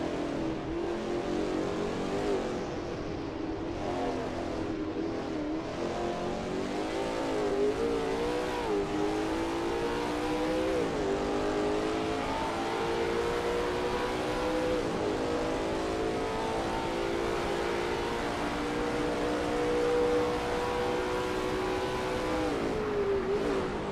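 A Lola T70 MkII Spyder race car lapping the Riverside Short circuit in a racing game, its engine droning loudly and continuously, with pitch rising and falling through acceleration and gear changes.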